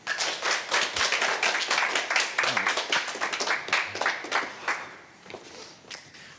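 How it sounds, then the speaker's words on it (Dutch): An audience at a Frisian variety show claps for a comedy duo, a close, lively patter of individual hand claps that thins out and fades over the last seconds. "Dus maak een applaus voor Van der Laan en Woe."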